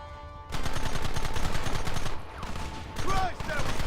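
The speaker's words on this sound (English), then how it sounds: "There they are! Open fire!" Rapid bursts of repeated gunfire in a Red Dead Redemption 2 shootout, loud and close, with volleys overlapping and brief pauses between, and voices shouting over the shots.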